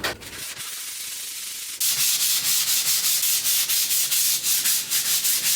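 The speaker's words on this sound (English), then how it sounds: "this has to be sanded dry" A surface is sanded dry by hand in a DIY job, making a loud, close, continuous gritty rasp that turns into rhythmic back-and-forth strokes.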